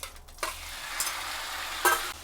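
Beef frying in butter in a pan for fried rice, a steady sizzle with a few short stirring scrapes close by, no talk.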